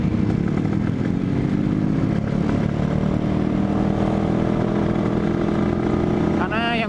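A Honda NSR 150 two-stroke motorcycle with a big carburettor runs at high speed, its engine droning loudly and steadily with rising tones under heavy wind noise, close to the rider.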